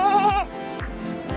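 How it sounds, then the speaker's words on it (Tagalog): Goats on a family farm in General Santos bleat loudly up close: one long wavering cry, then two shorter bleats follow at a steady pace. "ay mga kambing namin"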